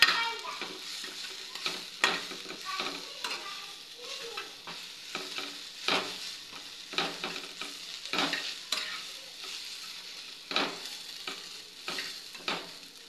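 Sujuna saag greens stir-fried in a pan, a steady sizzle broken by repeated scraping and stirring strokes of the spatula, close and moderately loud, with no talking.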